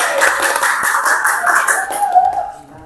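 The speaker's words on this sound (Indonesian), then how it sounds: "Baik, tepuk tangan untuk kita semua." Classroom participants clap together for everyone at the end of group presentations in an Islamic religious education teacher-training session; dense, fairly close applause lasting a few seconds, then tapering off, with faint voices mixed in.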